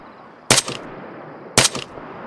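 Two sharp rifle shots ring out in the Arma 3 video game, about a second apart, each loud and close with a short echoing tail and quiet in between.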